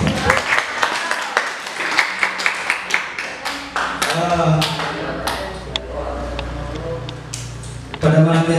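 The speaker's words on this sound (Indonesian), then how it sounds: "Tepuk tangan untuk kalian semua." A small crowd at an Indonesian-language speech event claps in a loose, uneven rhythm alongside talk, with a few sharper claps standing out near the end.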